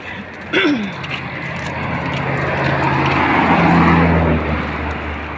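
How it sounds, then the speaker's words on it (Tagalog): A large truck passes along a highway shoulder, its engine roar swelling from near and loud then holding steady as a broad rumble with traffic noise around it. "Oh, malaking truck."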